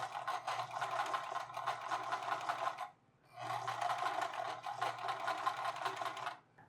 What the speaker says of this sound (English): I'm going to align the edges and sew it on along that side.